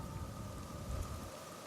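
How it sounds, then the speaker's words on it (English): Steady rain falls with a low rumble of thunder underneath, a dense, continuous patter at moderate loudness across a short stretch, with no voices. "Like a bad dream, the storm receded."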